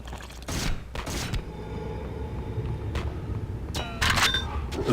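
Video game gunfire in Hunter: The Reckoning, with sharp bursts of shots near the start, around the three-second mark and again near four seconds, set against a steady rumbling backdrop, with no talking.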